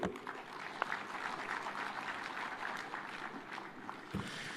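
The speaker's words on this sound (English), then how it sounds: "Another round of applause for Waziri." Applause at a devolution conference in Homa Bay County, Kenya, a fairly faint, distant-sounding spread of clapping from a crowd that carries evenly through the clip.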